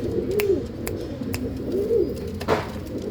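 Tournament-winning Vijayanagar racing pigeons coo close by, with two soft rolling coos and a few light clicks and wing or cage taps against a low background hum.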